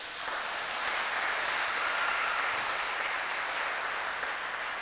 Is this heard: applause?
yes